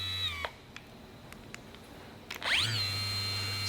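A Mirka 3-inch cordless polisher (AROP-B) set to speed 4 gives off a steady high-pitched motor whine, broken by a brief pause and a few clicks before it spools back up and hums on evenly.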